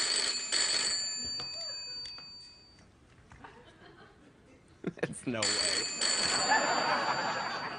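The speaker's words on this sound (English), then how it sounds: "phones ring." A telephone rings in two bursts of trilling bell, separated by a brief quieter gap with a short spoken remark.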